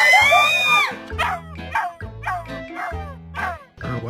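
A dog yips and whimpers close by in a string of short, high, pitch-bending bursts with brief gaps between them.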